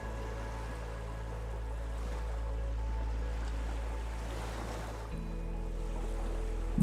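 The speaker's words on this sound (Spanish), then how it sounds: "El mar moldea la tierra a través de olas que nunca dejan de golpear la costa" Ocean waves rolling onto the Atlantic coast at Mar del Plata, a soft, steady wash of surf with low rumble and wind, fairly faint and continuous.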